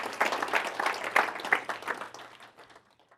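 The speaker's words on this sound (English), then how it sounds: "Applause, but thanks, Dave." Scattered applause from an investor day audience in Torrance, California, moderately loud at first and thinning out as the clapping fades toward the end.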